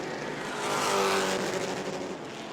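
Pro trucks race around the New Smyrna oval, a steady loud engine roar that swells as the field passes and then holds, with no voices.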